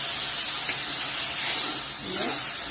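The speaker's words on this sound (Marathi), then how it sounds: "मटणाचं पाणी टाकायचं सगळं" Mutton stock water pours into a pot of garlic and chilli ground on a grinding stone, making a continuous splashing hiss for nearly three seconds with no talk over it.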